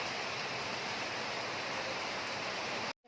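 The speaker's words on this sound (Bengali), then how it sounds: "এখানে মুষলধারে বৃষ্টি এসছে" Heavy downpour of rain pouring down steadily as a dense, loud, unbroken hiss that continues alone for nearly three seconds before cutting off abruptly.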